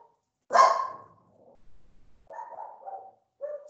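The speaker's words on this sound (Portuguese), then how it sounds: "Aqui nós temos uma cachorrada também, moçada." Dogs barking, one sharp loud bark followed by a few softer yips and barks, close by and without talk.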